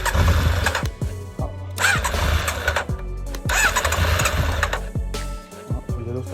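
An engine cranks and coughs as it tries to start after an air box replacement, with a low rumbling motor and several surging bursts across the clip.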